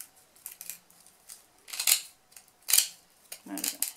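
Scissors chomp through stiff, thick millinery hat-base material in a few loud, separate crunching cuts, close up, with light clicks between strokes and no talking.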